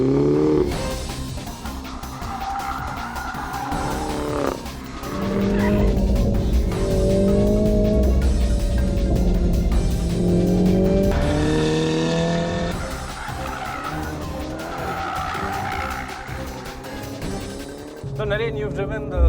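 A MINI JCW Pro Edition is driven hard on a race track, its engine revving and shifting up and down through gears with tyre squeal, heard from inside the car while people talk over it.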